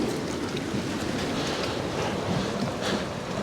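Strong storm wind from Storm Bert roars steadily across the water at Poole Harbour, buffeting the microphone with a constant broadband rush and faint lapping of waves beneath, no voices.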